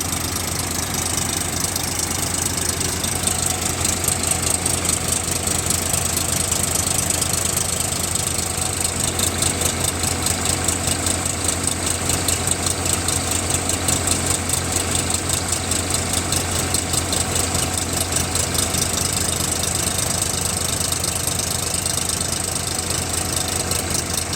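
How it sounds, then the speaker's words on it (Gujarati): An Indofarm tractor engine runs steadily while driving a thresher, a loud, continuous rhythmic diesel knock and hum held at constant load for the whole stretch, with no talking. "પહેલાં ટ્રેક્ટરનો તમને અવાજ સાંભળી રહો એ અડધી મિનિટ માટે અવાજ સાંભળો"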